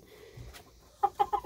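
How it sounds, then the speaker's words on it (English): A hen or rooster with feathered feet clucking outdoors, three short close clucks in quick succession after a quiet stretch with faint background noise. "it's a pretty chicken. Pretty feathered feet."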